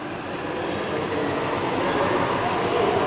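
A Class 158 diesel multiple unit passing through Chester station, a steady loud rumble of wheels and engine filling the whole stretch with no pauses.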